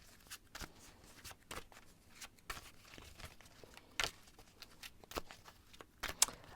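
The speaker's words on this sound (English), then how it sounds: "I'm gonna shuffle a little bit more." Tarot cards being shuffled by hand: soft, close rustles and irregular papery flicks and taps, quiet and unhurried, with no talking.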